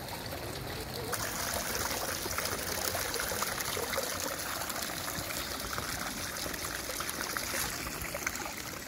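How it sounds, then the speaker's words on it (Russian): Water splashes steadily in a fountain in Santiago de Compostela, near the cathedral, a continuous close hiss and patter of falling water with no voices. "Послушайте, как вода шумит в фонтане."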